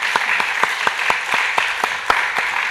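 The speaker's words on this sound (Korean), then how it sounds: "오늘 다시 한번 박수 한번 보내드리겠습니다" A seminar audience claps at a church evangelism seminar, a short, fairly sparse round of applause with distinct individual claps standing out in an uneven rhythm, no talking over it.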